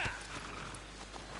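Horse hooves clip-clopping with a short whinny near the start, from a horse in a video game, steady and fairly faint throughout.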